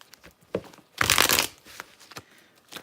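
Oracle cards being shuffled: a few soft taps and flicks, then one brief riffling burst of cards for about half a second, followed by light handling clicks, close and quiet.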